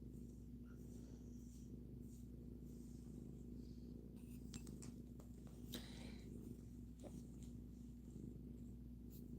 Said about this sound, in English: She's purring, y'all. Y'all hear the purr? She just purring away.